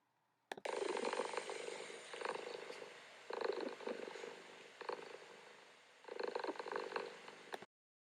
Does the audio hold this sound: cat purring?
yes